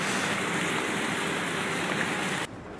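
Water flows along a stream in a constant, close, full rushing wash with no voices, then cuts off abruptly just before the end.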